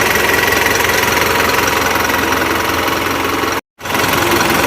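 A Mitsubishi Canter Euro 4 truck diesel idles with a steady knocking rumble while its clutch-driven cooling fan whirs loudly and continuously, cut by a brief gap of silence near the end.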